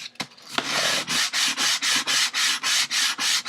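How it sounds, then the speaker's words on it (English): The main part of a wooden brace for a piccolo guitar is hand sanded with rhythmic back-and-forth strokes. The scratchy rasp comes close and steady, about three strokes per second, after a few knocks at the start. "I'm going to sand just the main part of the brace."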